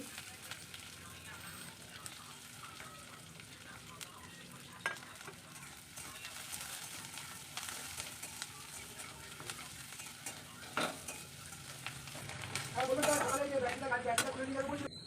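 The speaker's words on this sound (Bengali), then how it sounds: "লঙ্কাটা ভেজে নিচ্ছি আর পেঁয়াজগুলো একটু বেশি করে ভেজে নিচ্ছি" Steady sizzling and crackling of chilies and onions frying in oil, with stirring scrapes and a louder burst of sizzle near the end.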